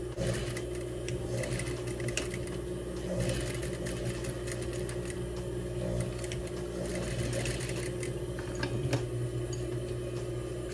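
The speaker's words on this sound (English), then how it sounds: "sew to the point that you stopped sewing" A sewing machine stitches bias tape on an upcycled thrift-store garment, running as a steady, close mechanical whir with a rapid needle rhythm that holds throughout without pause or talk.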